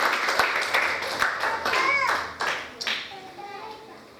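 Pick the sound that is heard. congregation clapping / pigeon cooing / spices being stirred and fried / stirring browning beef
congregation clapping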